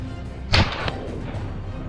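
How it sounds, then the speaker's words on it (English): A single sharp rifle shot fired at a wild boar during a hunt cracks out once, brief and punchy with a short fading tail against quiet outdoor background. "Unfortunately, my first shot missed."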